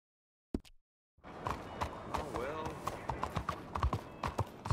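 Steady horse hooves clip-clop in a quick rhythm in the video game Red Dead Redemption 2, with a faint whinny partway through and a couple of brief knocks at the start.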